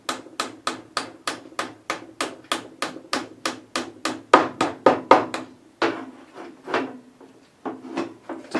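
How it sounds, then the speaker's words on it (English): A hammer drives a wooden shim into a table saw sled, with a rapid series of close, sharp knocks in a steady rhythm, then a brief pause and a few more spaced taps, with no talk. "So I'm just kind of driving a shim in here."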